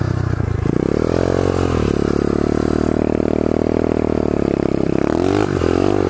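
A pit bike engine roars loud and steady close by, revving up and down in long sweeps with a rough, buzzing tone and no voices over it.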